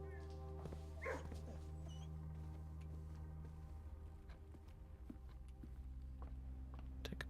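A dog in the puzzle game Blue Prince gives a short yip and whimper early on, then only faint ticks and soft thumps continue over a low steady hum, quiet and without speech.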